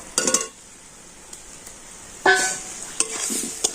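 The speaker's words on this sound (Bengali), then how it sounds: "এবার আমি ভিজে রাখা আলুটা দিয়ে দেব" Soaked potatoes hit a pan of cooked-down masala, giving a brief close clatter, then a quiet gap before a louder burst of sizzling and stirring scrapes.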